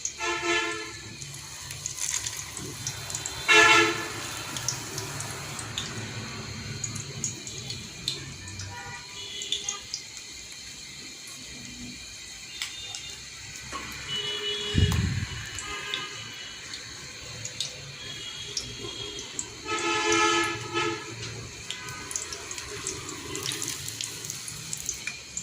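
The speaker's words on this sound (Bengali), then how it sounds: "এখন আমি এক এক করে এখানে পাউরুটিগুলি দিয়ে দিচ্ছি।" Bread slices dropped one by one into oil on low heat: a steady, close hiss of frying with brief louder sizzles as each piece goes in, and a faint tonal hum in the background.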